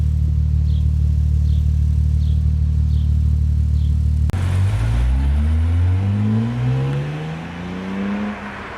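A 2023 Nissan Z with an aftermarket exhaust idles with a deep, loud, steady burble, then pulls away hard, the note rising through the revs across several gear changes and growing distant.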